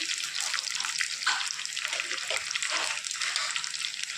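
Curry leaves, green chillies and onion fry in hot oil for a tapioca erisseri, giving a steady, close sizzling hiss with faint crackles and a voice talking softly in the background.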